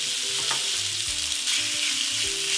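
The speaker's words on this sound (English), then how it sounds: "once the pan is smoking hot, I will add some vegetable oil. And then straight on add the beef" Beef searing in smoking-hot vegetable oil in a heavy-bottomed pan: a loud, steady crackling sizzle running throughout, with occasional low knocks and scrapes from the pan, no voices.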